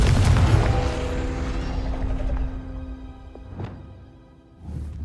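Confringo spell explosion in the video game Hogwarts Legacy bursts with a loud, deep boom that rumbles and decays over a few seconds, followed by two sharper, softer crackling bursts near the end.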